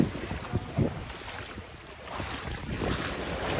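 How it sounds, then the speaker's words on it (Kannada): Floodwater about three feet deep surges across a flooded road in Dubai during heavy rain, a rushing wash of waves with gusty wind buffeting the microphone, swelling and easing over a few seconds. "ಅಲೆ ಬರ್ತಾ ಇದೆ"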